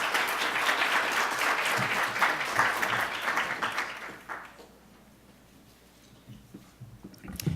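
An energy conference audience applauds to welcome a keynote speaker, dense close clapping that fades away after about four seconds, leaving quiet room noise with a few faint scattered sounds.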